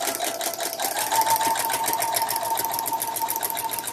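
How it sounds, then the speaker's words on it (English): A sewing machine stitching a quilt seam at medium speed, running steadily and loudly up close with a fast, even mechanical whir and needle rattle throughout. "I have my sewing machine set on the medium speed, so I won't let it get away from me too much."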